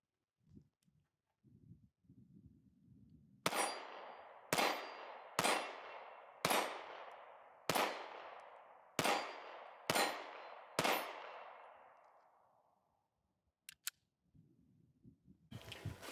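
Beretta APX A1 Carry pistol fired on an outdoor range, eight sharp loud shots at roughly one-second intervals, each with a ringing decay, framed by faint rustling and handling noise before and after.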